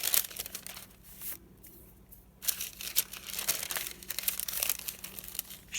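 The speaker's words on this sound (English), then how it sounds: "I'm going to take a piece of parchment paper and stick it in there." A sheet of parchment paper crinkles and rustles as it is handled and pressed into a craft pocket, with close, intermittent crackling bursts separated by short quiet gaps.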